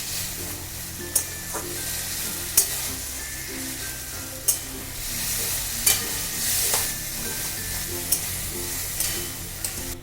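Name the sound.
boiled flat beans stir-fried on high flame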